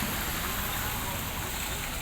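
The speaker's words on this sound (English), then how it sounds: "it started raining on our way" Rain falling on a town street in Cambodia, a steady, dense hiss that stays even and fairly loud across the whole moment, with no voices heard.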